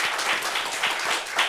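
A seated audience at a health meeting claps briefly, a short burst of steady, dense applause at moderate level.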